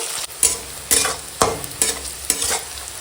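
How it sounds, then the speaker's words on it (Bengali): Sliced onion and green chilies frying in hot oil with whole garam masala and bay leaf, a steady sizzle broken by sharp, regular scrapes and clatters of a spatula stirring in the pan. "এখন দিয়ে দেবো কেটে রাখা পেঁয়াজ আর কাঁচা লঙ্কা চূড়া দিয়ে ভেজে নেবো"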